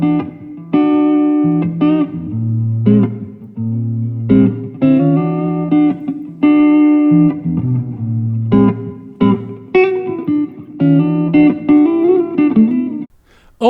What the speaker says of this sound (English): Here's the reverb.